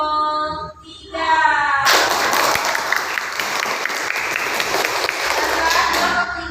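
A classroom bursts into loud applause and cheering to pick the winning group, the clapping starting abruptly after a voice speaks and then holding steady and dense.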